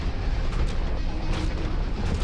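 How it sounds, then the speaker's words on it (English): Explosions and heavy combat din in the video game Mechwarrior 5: Mercenaries, a dense, loud, continuous rumbling roar with repeated booming bursts layered throughout. "Oh, that was a big explosion."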